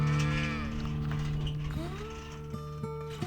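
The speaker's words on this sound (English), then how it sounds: "Then we moved on to clear the cattle from the yard, get them back out into out the pasture." Cattle low in a yard, a long deep moo rising and falling, then another, close and loud over a rumbling background with a few faint knocks.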